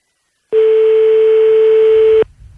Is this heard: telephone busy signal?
yes